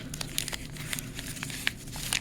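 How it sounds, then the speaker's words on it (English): A torn strip of brown paper crumpled by hand for a craft project, soft crinkling crackles in quick irregular bursts, close and fairly quiet, no talk. "So I'm gonna then crumple that up."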